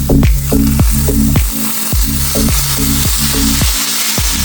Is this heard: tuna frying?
yes